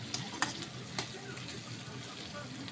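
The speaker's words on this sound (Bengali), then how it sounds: "ভাজা ভাজা হয়ে এসছে, গ্যাসটা একটু বাড়িয়ে দেব," Chopped banana flower with onion and capsicum sizzles steadily in a pan over a gas flame, a soft continuous frying hiss with a few light stirring scrapes near the start.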